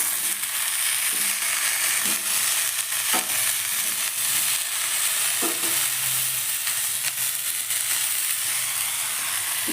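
Boiled potatoes fry in a pan with a constant bright sizzle, while a spatula stirs and scrapes at irregular intervals, near and with no voices.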